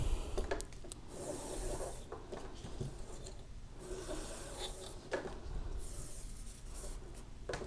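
Paracord pulled through a loop while a fishtail bracelet is braided: steady close rubbing and scraping friction, with soft rustles and brief ticks throughout.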